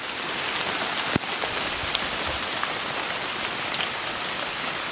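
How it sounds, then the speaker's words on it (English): Steady rain drums on a tent and tarp at a duck hunting camp, a dense close patter with occasional heavier drips and one sharp knock, continuing unbroken without voices. "It's been raining probably a solid hour and a half now."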